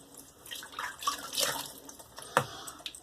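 Water splashing and trickling from a tap as it is added to a Mitchell's Wool Fat shaving soap lather with a horsehair brush, a few brief pours and drips, close and moderately loud.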